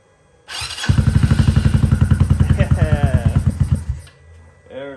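Maxxam 150 go-kart engine cranks, fires and runs with a rapid, loud, even putter close by for a few seconds before cutting out, followed by a brief voice.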